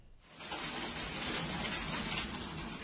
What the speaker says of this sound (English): a sudden downpour hit the city, accompanied by thunder, lightning, strong winds, and hailstones